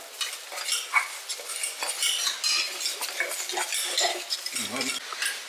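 Kashmiri chilli powder, fennel and pepper powder are stirred into onions in a pan for Kerala-style kappa biriyani. Busy metal spoon scrapes and clinks sound over a steady sizzle, close and loud, with no talk.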